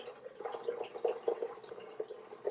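Hot water poured into a thermos bottle through a narrow opening, a soft, continuous trickle with faint dripping splashes, quiet and close, with no talk over it.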